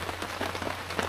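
Light rain falls steadily in a continuous soft patter of drizzle beside a hanging tree house, with no voices.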